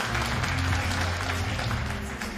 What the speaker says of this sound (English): Coner Hignett back to his feet to a round of applause from those in attendance here at the